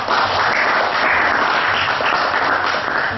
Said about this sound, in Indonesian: kita tepuk tangan dulu buat kita yang semuanya